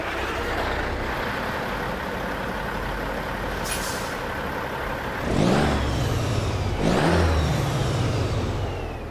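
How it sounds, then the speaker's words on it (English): A Peterbilt 359 truck in American Truck Simulator idles with a low diesel rumble, gives a short hiss, then revs up twice in loud rising surges before settling back to a deep idle. "let's listen to how beautiful this truck sounds when you fire it up"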